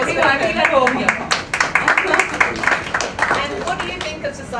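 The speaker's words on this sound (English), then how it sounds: "Yeah, round of applause." An audience clapping at a magazine launch event, a loose patter of handclaps from a modest crowd heard up close, mixed with people talking over it.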